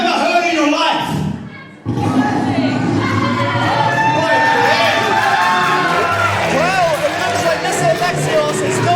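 A wrestling crowd at a Southwest Wrestling event roaring for a wrestler's entrance, loud, dense cheering, whooping and shouting from many voices after a brief dip, sustained and close throughout.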